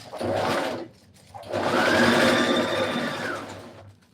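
A sewing machine stitching fabric for a shirt dress runs in two bursts, a short whirring run, a brief pause, then a longer steady buzzing stretch that winds down, close and loud with no talking.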